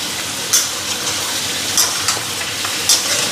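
Chicken pieces fry in a pan with a loud, continuous close sizzle, broken by a few sharp scraping stir sounds, and no voices are heard.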